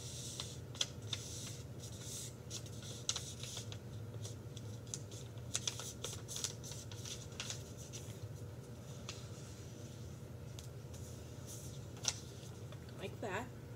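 Purple origami paper is folded in half by hand, producing faint, scattered crinkles and soft taps over a quiet, steady background hum, with a voice talking throughout.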